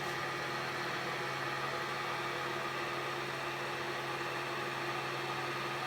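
A Miter Buddy bicycle framebuilding tool spins at about 1100 RPM, giving off a faint, steady motor hum with a constant tonal whine and no change or talk throughout.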